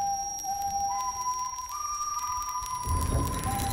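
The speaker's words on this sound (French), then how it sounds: "Ensuite, il y a le fameux sifflement." The wolf's eerie whistled tune from the animated film Puss in Boots 2 rises in clear, sustained pitched steps, thin and alone, before a burst of rushing, rain-like noise swells underneath near the end.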